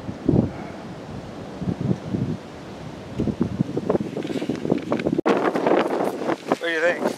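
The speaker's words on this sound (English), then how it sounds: "Sorry about the wind." Gusty wind buffets the microphone at a river overlook about 20 feet above the water, rumbling steadily throughout with louder bursts near the end, while someone talks over it.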